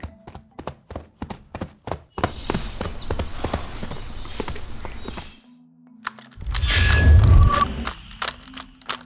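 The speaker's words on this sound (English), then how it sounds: "make the sound of the horses on whatever surface they're on" Foley hoof clip-clops made with props on a hard surface, sharp and close, trotting in a steady beat with thuddy, rumbling stretches between runs of hoofbeats.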